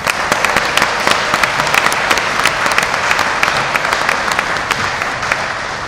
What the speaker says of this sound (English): Would you give Gesu a round of applause, please?